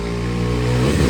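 A motorcycle engine revs loud and close on a mountain bike ride from Nepal toward India, a steady buzzing drone that climbs slightly in pitch near the end.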